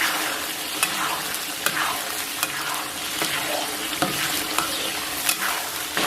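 Chopped chili sauce stir-fried in a wok with scallion, ginger and chili bean paste, steady sizzling under repeated scraping strokes of the spatula at an even pace, near and clear with nobody talking.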